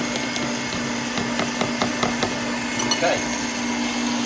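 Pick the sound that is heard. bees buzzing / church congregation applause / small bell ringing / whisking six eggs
whisking six eggs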